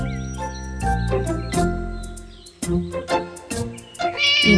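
A cartoon cat in a children's story meows several times in short, tonal cries with a couple of sharp accents, set against bright plinking tones.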